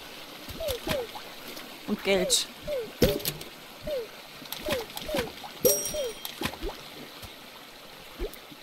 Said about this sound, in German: Ist hinter dem Wasserfall vielleicht eine Höhle?